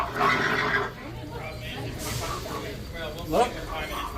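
A horse whinnies over steady background chatter, with a second shorter neigh near the end; voices talk throughout, at a farm area on Tom Sawyer Island.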